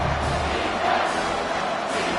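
Dense, loud roar of a stadium crowd in the NCAA 25 college football video game, a steady wall of cheering voices with no breaks.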